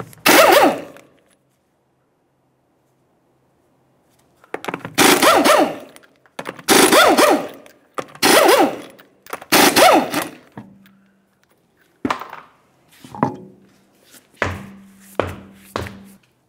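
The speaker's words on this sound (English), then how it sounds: "continue on to removing all 5 of your 19mm lug nuts and then the wheel" An impact wrench rattles loudly in several short bursts while removing the 19mm lug nuts from a 2009-2019 Ford Flex rear wheel, with a few lighter clicks and whirs between bursts.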